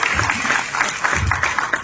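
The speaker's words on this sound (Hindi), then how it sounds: "ताली बजा दो इस आदमी के लिए जिसने मेरा नाम लिया।" Crowd applause from an audience at a Hindi lecture by a doctor on why heart attacks happen, a dense, steady patter of clapping that fills the whole short stretch without pause.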